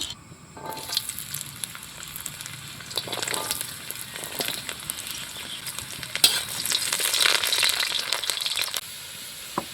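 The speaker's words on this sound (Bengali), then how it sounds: "প্রথমে গাজর ভেজে নেব।" Carrots frying in mustard oil in a hot wok for a festive Bengali meal, a steady close sizzle that swells and crackles as the pieces are stirred, with no talk over it.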